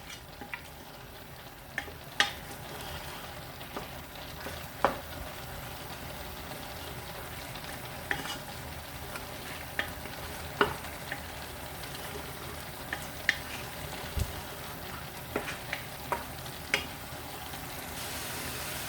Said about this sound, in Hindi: हाई फ्लेम पर रख के इसकी बुनाई करेंगे